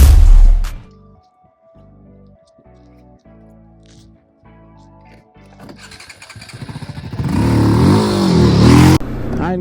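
A TVS Apache RTR310 motorcycle starts up with a short burst, idles with a steady low thrum, then builds into a loud, rising engine roar as it pulls away and accelerates close by.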